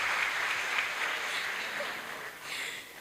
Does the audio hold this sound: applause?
yes